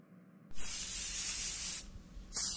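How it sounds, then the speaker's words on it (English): Purple spray paint hisses from an aerosol can onto a car in a long close burst of about a second and a half, then stops and starts again in a second short spray. "today, I'm going to spray paint Sprig's car with purple paint."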